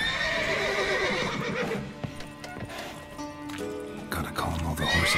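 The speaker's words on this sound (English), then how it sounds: "Gotta calm all the horses before they wake the..." Horses in The Witcher 3 whinny and neigh loudly in a stable, with clip-clop hooves and shuffling under a voice speaking over the commotion.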